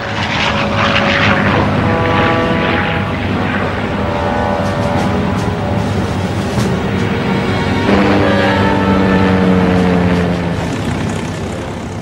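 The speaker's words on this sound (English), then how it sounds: "the bombers lumbered down the flight deck and clawed their way off" Several B-25 Mitchell bombers' propeller engines roar loud and steady as the planes take off one by one from an aircraft carrier's flight deck, with a droning engine pitch that rises and shifts midway.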